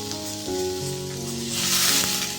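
Red lentils, carrot and chopped tomato sizzling in a pan, a continuous close frying hiss with a steady background hum, the sizzle swelling louder toward the end.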